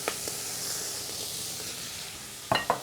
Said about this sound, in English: Stirring together. Until the lettuce is wilted.